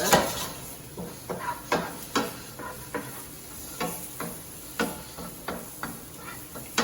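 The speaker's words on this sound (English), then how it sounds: "You can hear that sizzling away." Ginger and garlic sizzle steadily in a pan while a utensil scrapes and taps against it in irregular strokes, close and clear, with no talking.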